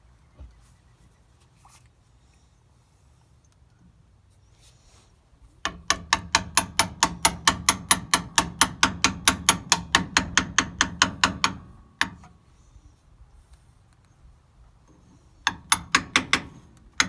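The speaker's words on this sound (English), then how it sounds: "You don't have to like really hammer them in. Just a tight little tap, it'll get them in there." An axle shaft seal is tapped into a 2004 Ford Ranger axle housing with a hammer: a rapid, even run of sharp metallic taps, close and loud, then a lone hit and a short final burst.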